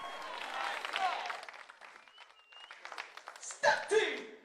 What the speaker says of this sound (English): let's welcome the palace ministers with a big round of applause